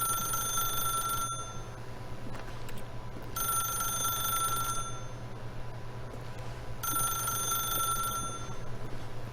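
A telephone rings in the video game The Stanley Parable, three long electronic bursts separated by silent gaps over a steady low hum, with no speech.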